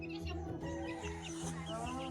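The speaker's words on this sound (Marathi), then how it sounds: "काले काले कोंबडे खेळतात आता." Chickens cluck and call close by in a busy, continuous stretch, with a voice talking faintly underneath.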